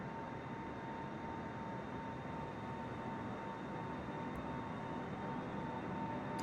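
Airliner-style aircraft in Microsoft Flight Simulator pushed to excessive airspeed, a steady dense engine and wind roar with a thin constant tone, building slightly louder throughout with no talking.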